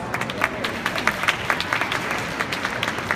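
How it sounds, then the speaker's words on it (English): Scattered audience applause for two performers at a live beauty event in a department store, a moderate, steady patter of claps filling the room throughout, with no voices standing out. "So let's give them a round of applause."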